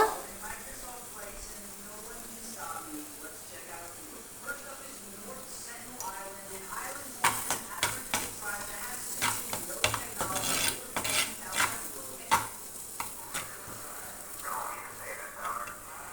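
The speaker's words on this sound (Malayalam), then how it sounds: "എല്ലാം കൂടെ നന്നായി ഒന്ന് മിക്സ് ചെയ്യാം" A spoon stirs a frying ginger curry mixture in a pan for a Kerala sadya dish, with rapid scraping and clinking strokes over steady sizzling that grows busier midway, close by, with a voice talking softly at times.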